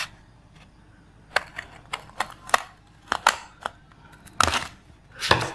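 Scissors snip through dress fabric to cut an armhole, giving a string of sharp, close clicks and crunches in irregular bursts with quiet gaps between them.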